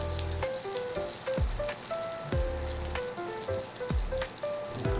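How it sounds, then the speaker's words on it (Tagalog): Hungarian sausage frying in beef fat, a steady broadband sizzle running throughout with occasional pops and faint clinks of a utensil against the pan, no talking. "yung mantika ng baka sa pagprito ng Hungarian sausage"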